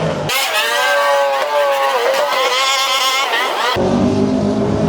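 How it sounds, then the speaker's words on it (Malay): A Nissan Skyline R34 fitted with an LS V8 engine roars loudly at a car event, a sustained high-revving tone with wavering pitch that cuts off abruptly near the end, leaving lower crowd and engine noise. "Siapa kata enjin LS V8 tak kuat?"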